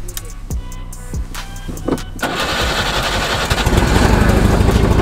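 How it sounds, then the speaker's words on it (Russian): An old Russian car with a knocking engine cranks in a few short bursts, then catches and runs loudly and roughly, close by. "Хоть и мотор стучит,"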